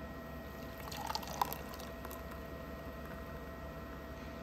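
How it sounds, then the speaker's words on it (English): Fresh homemade carrot juice from an Angel juicer is poured into a glass, a quiet liquid pour with a few soft drips and splashes, close but faint over a steady background hum. "I'm gonna go ahead and pour it in my glass"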